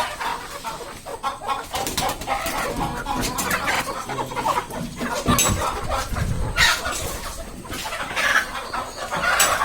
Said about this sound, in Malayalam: ഇതാണ് എൻ്റെ നാടൻ കോഴികൾ